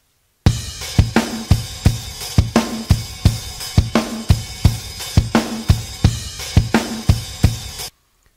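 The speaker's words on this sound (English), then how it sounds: "I've got some live drums that I've recorded." A live-recorded acoustic drum kit plays a steady rock groove, punchy kick and cracking snare hits alternating under a constant hi-hat wash, loud and close for about seven seconds before stopping abruptly.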